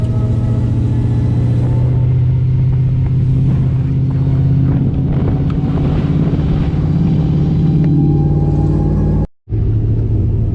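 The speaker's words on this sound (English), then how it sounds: "A tour in a sequential hilux, as you do." A sequential-gearbox Toyota Hilux work truck drives with a loud, steady engine drone and rumble that holds for about nine seconds, cuts out abruptly for a split second, then resumes.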